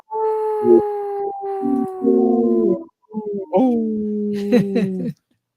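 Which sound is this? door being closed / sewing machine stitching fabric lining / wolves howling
wolves howling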